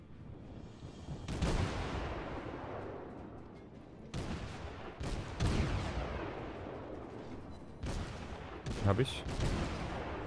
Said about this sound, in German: das macht hier schon Spaß mit so schnell schießenden Kanonen